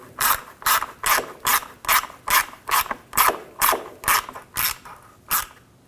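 A ratchet tightens a screw on the radiator of a 2007-2013 BMW 328i with a 3.0L inline-six, clicking in about a dozen evenly spaced, close, crisp strokes.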